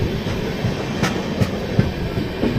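The Kamakhya–Anand Vihar express train runs on the tracks with steady rolling rumble and regular clickety-clack wheel beats over the rail joints, heard from on board with no talking.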